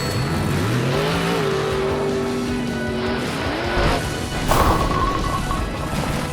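Monster truck number 17 accelerating toward a jump, its engine revving upward, followed by a crashing thump as it comes up short, with loud continuous engine noise throughout.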